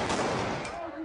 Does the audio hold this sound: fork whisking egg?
no